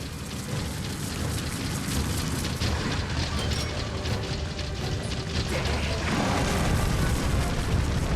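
Bomb explosions in the Zelda Skyward Sword video game, a dense, continuous rumbling blast texture with rattling debris that holds loud and steady throughout, with no voices over it.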